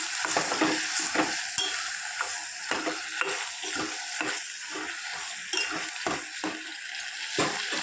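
Turmeric and rock salt are stirred into a brinjal and tomato curry in a pan, with repeated close scraping strokes at a steady rhythm over a continuous sizzle and no voices.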